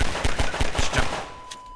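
Rapid bursts of gunfire in Half-Life 2, about five evenly spaced shots in quick succession, followed by a short steady tone.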